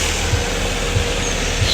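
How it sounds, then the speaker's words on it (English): A Nissan 240SX engine runs smoothly after finally starting, a loud, steady close idle drone with faint rhythmic pulses and no talk over it. "So yes, finally the car started running."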